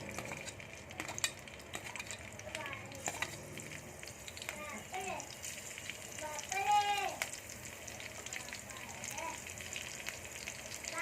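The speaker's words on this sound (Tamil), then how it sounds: "பச்சை மிளகாய் போட்டு 1 நிமிஷம் வணக்கி விடுங்க. கொஞ்சம் ஃப்ரை ஆயிரட்டும் பச்சை மிளகாய்." Green chillies fry in hot oil for egg bhurji, making a soft, continuous crackling sizzle with occasional stirring taps, fairly faint, with a few brief chirping tones over it.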